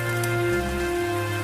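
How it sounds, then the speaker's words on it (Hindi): Heavy rain pours down in a steady, dense hiss that does not let up, heard together with sustained low musical tones. "बारिश और तेज हो गई।"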